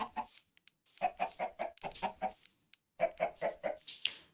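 Chickens clucking in Minecraft 1.21 survival play, a run of short, close clucks in quick bursts with brief pauses between groups.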